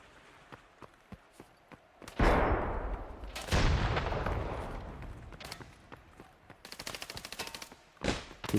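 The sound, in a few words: gunfire in video game Hunt: Showdown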